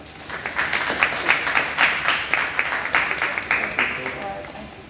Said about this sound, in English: Let's give applause to Mr. Jalen Elrod